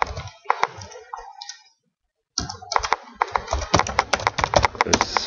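Sped-up computer keyboard typing during Flash/AIR Android app coding, heard as dense, rapid, loud clattering key clicks, a short silent gap, then a fast burst of close clicks.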